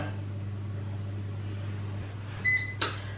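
A kitchen oven timer beeps a few short electronic tones near the end of baking a walnut tart, sounding over a steady low hum from the oven, followed by a brief clatter.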